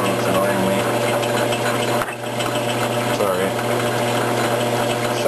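A metal lathe runs steadily while cutting threads, giving a loud, continuous mechanical whir with a repetitive rattle, nearly uninterrupted apart from a brief dip partway through, with no talk over it.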